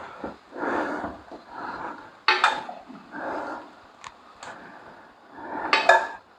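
Pots, pans and a colander clatter and clank in irregular bursts as boiled potatoes are drained in a home kitchen, with a few sharp metallic knocks between quieter rummaging.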